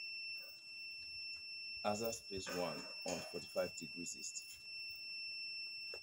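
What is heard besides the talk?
beeping of a satellite tracking device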